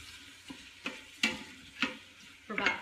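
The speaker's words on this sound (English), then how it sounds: "So we're going to let this one saute" Roasted garlic sautés in a pan, with five distinct stirring scrapes about half a second apart over a faint sizzle, close and quiet with no talk.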